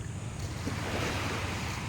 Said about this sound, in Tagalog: Yan, ito yung tabing dagat